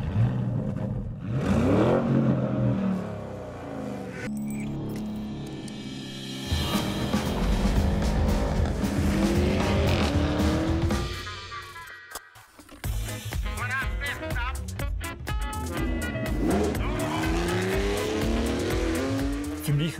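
A 2021 Porsche Cayenne GTS Coupe engine revs hard, its exhaust rising and falling in loud sweeping pitches with tire squeal, like a car being driven aggressively on a track.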